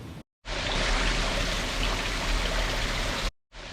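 Water draining out of a narrowboat dry dock: a constant rushing, splashing flow like a stream or small waterfall, heard alone and steady between short silent breaks at the start and end.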